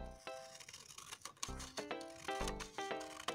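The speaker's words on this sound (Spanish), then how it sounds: "Y recorto con mis tijeras." Scissors snipping through paper at an elementary art lesson, several short crisp cuts in an uneven rhythm, close and clear with no talking.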